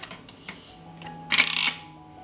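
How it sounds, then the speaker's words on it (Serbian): A pressure cooker lid is closed: a few soft clicks and taps lead into a brief, bright metallic scrape and clatter near the end, close by and with no speech. "Zatvorit ću ekspres lonac"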